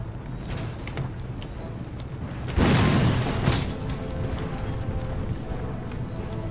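Mortar fire in Empire Total War: a single heavy, booming burst erupts mid-clip, rising above a steady low battlefield rumble before fading back into the din.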